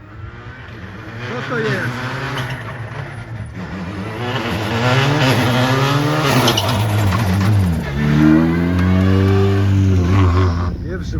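A rally car on a stage of the Silesia Rally 2025 approaches and passes, its engine rising and falling in pitch through gear changes, loud and close, while spectators talk over it.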